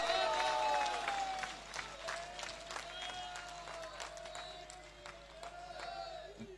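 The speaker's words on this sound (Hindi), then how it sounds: "अब बात सही है तो ऊंचा हाथ उठाकर एक बार जोरदार ताली बढ़ा दो" A rally crowd at the Samras Sanatan Yatra stop in Laxmangarh claps hard in a steady burst of sharp, overlapping hand claps. A loud voice carries over the applause throughout.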